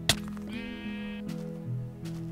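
A Minecraft sheep lets out one clear, close bleat with a wavering tone, followed by faint game sounds.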